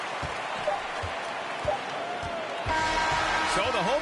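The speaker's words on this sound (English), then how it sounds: "So the home crowd happy here as they get the victory." A home crowd cheers at a basketball game after a victory, a broad, distant roar with scattered squeaks and thuds from the court, rising louder near the end, with a commentator's voice over it.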